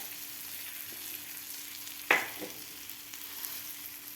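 Buttered bread toasting in a pan for masala toast, a quiet steady sizzle with one sharp clack of a utensil midway and a few soft scrapes after, no voices.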